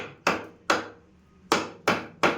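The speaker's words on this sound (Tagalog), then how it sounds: "pag hindi masyadong mabot, pukpukin mo, pukpuk" A hammer knocks a swimming pool filter lock into place with five sharp, separate strikes at an irregular pace, each loud and close, with short ringing decays between and no talking.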